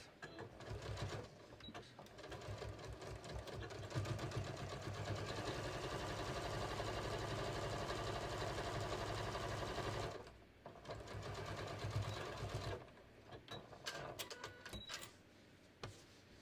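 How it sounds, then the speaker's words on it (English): A sewing machine quilts stitching lines on each side of fabric blocks for a beach tote, whirring in long continuous runs with short pauses and restarts, close and alone. "I'm just going to quilt on each side of these blocks."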